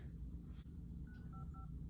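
A telephone keypad sends a few short dialing tones in quick succession, faint beeps over a steady low background hum.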